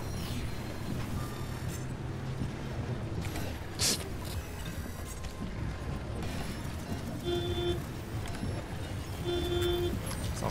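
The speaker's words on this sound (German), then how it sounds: "Ist auch, glaube ich, nicht so gut, wenn er ständig hupt." A car horn honks in the survival driving game Pacific Drive, two short tonal blasts late in the clip over a steady, busy rumble of vehicle and ambient game noise.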